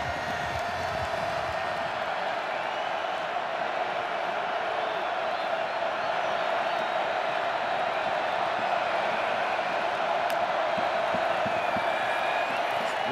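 Large football stadium crowd at Rutgers at Iowa reacting to an incomplete third-down pass, a loud, steady roar of cheering and shouting filling the whole stretch with no letup.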